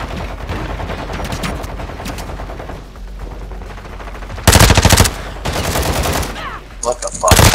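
Rapid bursts of automatic gunfire in Call of Duty: Modern Warfare II, loud and close, with sharp volleys cutting in and out over background game noise.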